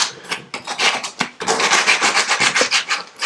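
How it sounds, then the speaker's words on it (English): Sandpaper rubbing lightly along the edge of a square-edged wooden worktop, producing loud, close, rhythmic back-and-forth scratchy strokes in quick succession with a couple of brief breaks. "So I'll just take a piece of sandpaper and give it a real light rub down."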